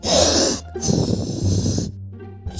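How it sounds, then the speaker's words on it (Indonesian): Loud, close, wet sniffling and snorting in a couple of congested bursts separated by brief pauses. "Waktunya ingus meluncur."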